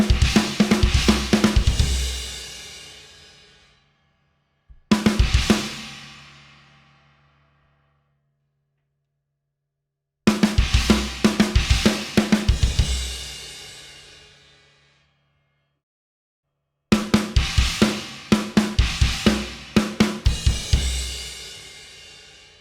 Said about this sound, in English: I'm going between the China and the snare drum with two kick drums